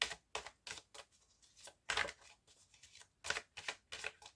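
Doreen Virtue angelic oracle cards being shuffled for a reading: a close, quiet run of quick papery riffles and flicks in irregular bursts, with no talk.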